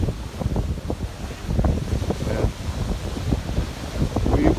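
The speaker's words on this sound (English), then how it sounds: "Very windy today." Strong wind gusts on a stormy seaside morning walk near palm trees and a high tide, a steady loud roar of microphone buffeting with surf-like rumble throughout.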